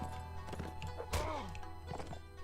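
Horse in the Takeshi's Castle video game running into a crowd, with hoof clip-clops, a whinny, and a sharp whack-like impact midway, over a background game soundtrack.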